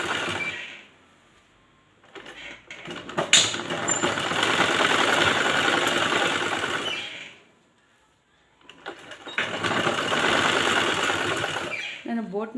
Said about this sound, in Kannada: ನೆಕ್ ಹೊಲಿತಾ ಇದ್ದೀನಿ